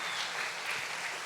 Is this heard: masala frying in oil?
no